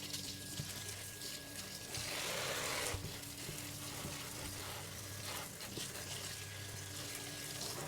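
Tomatoes are rinsed with baking soda under a running kitchen tap, giving a steady hiss of flowing water with a brief louder surge near the middle.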